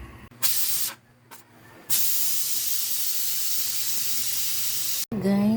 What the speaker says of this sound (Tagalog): Ilagay ko muna siya sa pressure cooker para mas mabilis siyang lumambot